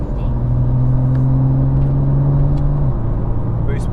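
A BMW M2 running a full E85 tune on Michelin Pilot Sport Cup 2 tyres launches hard, its engine droning loud and close in a steady rising rev that drops off sharply near the end.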